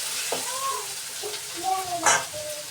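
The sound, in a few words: onions frying in a pan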